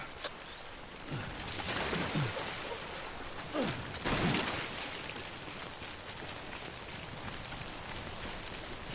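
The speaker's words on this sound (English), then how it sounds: "Don't stay out in the rain any longer than you have to." Steady timefall rain from the video game Death Stranding pours down continuously, a dense close hiss of drops on surfaces with brief louder splashes, and no voices.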